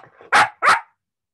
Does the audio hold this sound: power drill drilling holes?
no